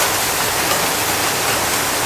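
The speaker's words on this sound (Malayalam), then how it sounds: "അപ്പം നല്ല മഴയുണ്ട്, ഇടിയുണ്ട്, കാറ്റുണ്ട്" Heavy rain pours down steadily in a dense, even wash of noise during a Ramadan evening at home, with no distinct thunder or wind gusts standing out, and no voices present.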